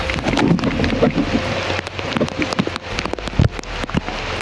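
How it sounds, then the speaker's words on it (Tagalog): Heavy rain pours down steadily, a dense hiss of drops pattering on surfaces close by, with no voices. "Sobrang lakas ng ulan"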